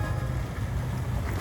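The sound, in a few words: motorboat with dual 150 engines passing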